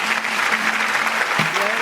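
TV studio audience at a talent show applauding steadily, a dense wash of clapping throughout while a voice speaks over it in the second half.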